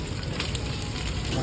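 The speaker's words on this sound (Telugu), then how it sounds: "ఫ్రైడ్ రైస్ చేస్తుంది మన భయ్య అయితే" Fried rice cooks at a street food stall, a loud, close, continuous sizzling crackle with a dense rush underneath and no speech during the short burst.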